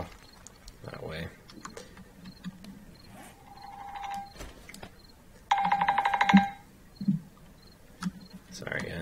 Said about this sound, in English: my phone was going off